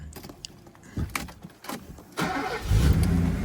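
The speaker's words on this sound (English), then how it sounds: "I'll just start the car up and show you that it all starts nicely." A 1989 Mercedes 560 SEC W126 coupe with a V8 is started up close: a few clicks and rustles, then the starter catches and the engine fires, settling into a deep, steady idle.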